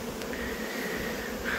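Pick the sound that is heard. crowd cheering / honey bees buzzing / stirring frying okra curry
honey bees buzzing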